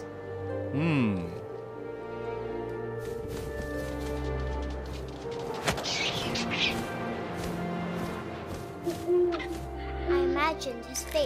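Owl hooting in the video game What Remains of Edith Finch, a few soft hoots over game ambience and music, with someone talking over it.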